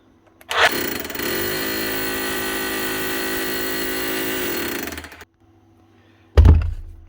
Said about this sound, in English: Hammer drill, that's what we want.